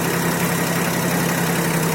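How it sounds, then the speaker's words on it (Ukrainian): A Solis 24 mini tractor engine runs at a steady, loud, constant drone with a low hum as it drives onto a transport vehicle, with no voices. "Ось заїжджає в автомобіль, який завезе"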